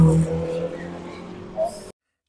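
The Aston Martin Valkyrie number 009 race car of Thor Racing roars loudly at Le Mans as it runs off into the gravel trap, the engine note dropping away into rumbling, with a brief rise before cutting out abruptly.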